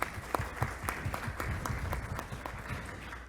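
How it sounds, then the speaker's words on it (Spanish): Audience applause at a political panel forum, with a crowd clapping in a steady, dense patter and distinct individual claps standing out near the start, holding at an even, fairly close level throughout. "fuerte voto de aplauso"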